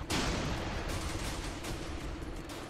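Gunfire rattles through a battle in Running With Rifles, a dense and steady crackle of shots that goes on without a break at moderate loudness.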